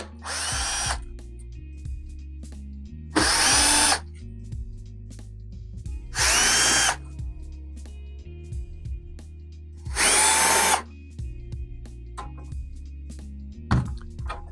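A power drill backs four screws out of a plate on an ElphaPex DG-1 crypto miner, giving four separate high whirring bursts about three seconds apart, close and clear over a low steady fan hum.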